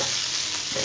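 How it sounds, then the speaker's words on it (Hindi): Boiled potato is mixed into a hot, sizzling pan for Bihari-style aloo appe, with a steady loud sizzle and a brief scrape of stirring near the end. "इसके बीच जो बॉयल आलू है उसे इसमें डाल देंगे और इसमें मिक्स करेंगे"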